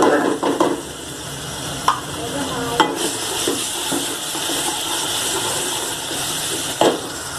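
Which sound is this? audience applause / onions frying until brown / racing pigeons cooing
onions frying until brown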